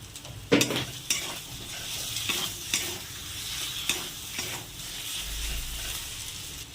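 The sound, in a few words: tomatoes added and stirred into frying spices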